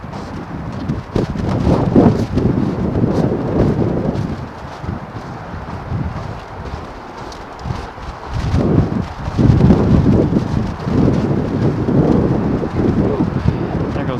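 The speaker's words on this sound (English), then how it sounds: "Wind again picking up." Strong wind gusts buffet the microphone outdoors in downtown Grand Rapids after heavy snow, a loud continuous roaring rumble that swells and eases in waves.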